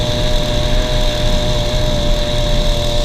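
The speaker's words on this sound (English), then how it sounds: "The engine struggled, but it exceeded my expectations." A motorized bicycle engine runs hard at top speed with a constant loud buzzing drone and a steady whine, strained and unbroken, mixed with rushing wind noise.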